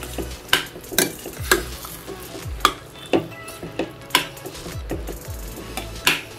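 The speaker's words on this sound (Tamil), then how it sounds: "ஒரு 2 நிமிஷம் நல்லா கொதிக்கட்டும்." Regular stirring strokes scrape a pot of Kerala-style chickpea curry about twice per second over a soft bubbling simmer, close and fairly loud, with no voices.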